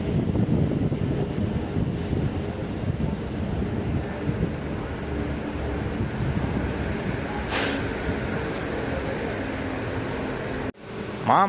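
A Chennai Beach–Tambaram local train runs at night, rumbling and rattling loudly from inside the carriage. Wind buffets the mic, and faint clanks come and go.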